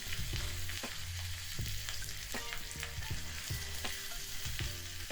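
Asafoetida and curry leaves sizzling in hot oil for a tempering, a steady close frying hiss with repeated clinks and scrapes of stirring throughout.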